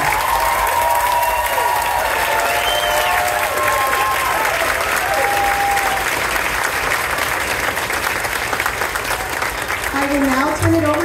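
A school audience applauds a group of second graders, with dense, steady clapping filling the whole stretch, a few voices and bright whistle-like cries rising above it, and a brief spoken sound near the end.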